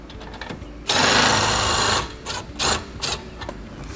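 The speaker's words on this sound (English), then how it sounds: "The trick to doing it is to get a hand drill and a 3/4 inch bit." A handheld power drill fitted with a 3/4 inch socket bit cranks an RV stabilizer jack on a Coachmen Catalina motorhome: one steady whirring run of about a second, then several shorter, uneven bursts of whine.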